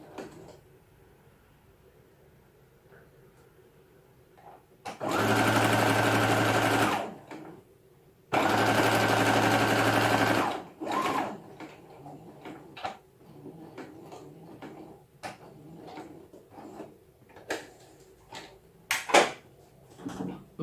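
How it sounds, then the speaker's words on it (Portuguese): Sewing machine stitching a seam on a baby blanket, two steady loud runs of a few seconds each separated by a short pause, followed by quieter handling clicks and fabric rustles. "Você vai passar uma costura aqui, ó."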